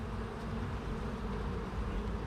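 Dense, steady humming of many honey bees fills the clip, a low continuous buzz from a busy hive with no talking.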